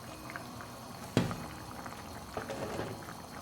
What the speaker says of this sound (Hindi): ये देख सकते हैं ढक्कन के अंदर से पानी उबलता हुआ नज़र आ रहा है हमें